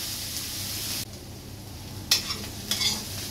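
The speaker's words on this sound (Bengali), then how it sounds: "পেঁয়াজ দেখো ভাজা হয়ে গেছে" Onions fry in hot oil with turmeric in a pan, a steady close sizzle with a couple of scraping stirs of the spoon near the end, no talk.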